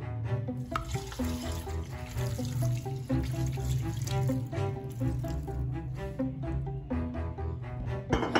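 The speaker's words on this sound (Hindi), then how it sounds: "अब हम इसमें पानी डाल देंगे।" Water runs steadily into a cooking pot of mutton karahi for several seconds, a continuous splashing flow with faint clinks, no talking.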